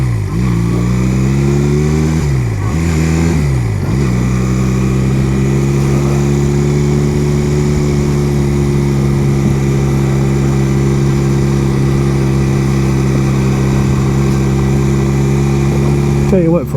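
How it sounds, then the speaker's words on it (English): A Honda Rebel 250 motorcycle engine, run after sitting for about ten years with around 13,000 miles, idles steadily up close and blips its revs up and back down twice early on before settling into an even, loud idle. "But the motor runs good."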